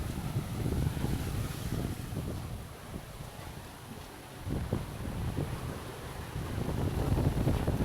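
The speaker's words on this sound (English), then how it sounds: "I feel like I can hear waves though." Waves wash onto the beach at Nerja on Spain's Costa del Sol in a continuous, moderately loud roar, with heavy wind buffeting the microphone throughout.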